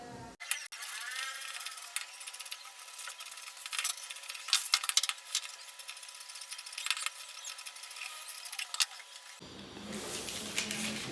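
Scissors snip repeatedly through blouse fabric at close range, giving a series of light, crisp cuts with small metallic clicks scattered across a quiet background and no voices.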